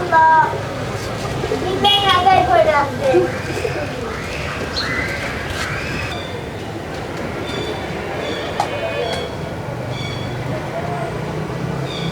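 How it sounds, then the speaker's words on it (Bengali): Pigeons coo and birds chirp through a busy outdoor scene as the pigeons are fed wheat, with people talking loudly early on and steady background noise throughout. "কবুতরের এখন খাবার দিতে হবে, চলো যাই আমরা কবুতরের খাবার দিই।"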